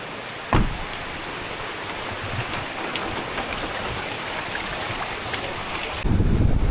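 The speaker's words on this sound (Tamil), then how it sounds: "கைஸ், கொடை வேறு இல்லை, மழை பாருங்கள்." Steady rain falls with gusting wind on the beach at Murdeshwar, a dense hiss throughout that roars louder near the end, with one sharp bump early on.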